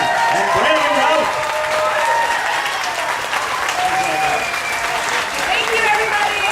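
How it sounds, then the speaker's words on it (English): Studio audience at a Saturday TV news program applauds steadily for three guests, a dense, sustained wash of clapping that holds loud and even from start to finish. "let's hear it for our guests today, Elena Huffman, Sam Huntington, and Brandon Rouse."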